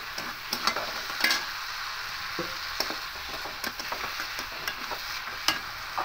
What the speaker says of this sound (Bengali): এবার দিয়ে খুব ভালো করে একটু নাড়াচাড়া করে কষিয়ে নেব